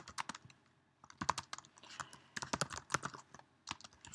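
Fingers type on a computer keyboard in quick, uneven bursts of soft keystrokes with brief pauses between runs, close and fairly quiet.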